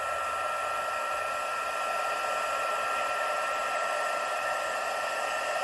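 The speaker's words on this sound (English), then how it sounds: "So we'll get our heating tool out here." Heat embossing tool warming gilded embossing paste, a constant blowing hum with an airy rush, steady and close for the whole stretch with no talk.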